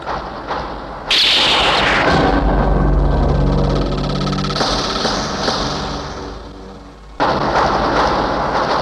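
Heavy gunfire and blasts in the video game Free Fire, loud booming bursts with sharp onsets that cut in abruptly and fade, mixed with a thick, rumbling background.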